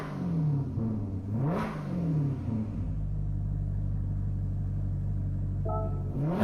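A 2013 Toyota Crown Athlete with a 3.5 V6 in Gran Turismo 7 revving through several rising and falling sweeps, then settling into a steady low drone, loud and close, with no talking.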